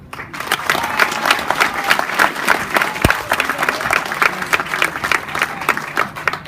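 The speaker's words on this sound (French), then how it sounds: "On peut encore l'applaudir quand même." Audience at a political meeting applauding steadily and loudly, a dense continuous wash of clapping with one sharp thump partway through.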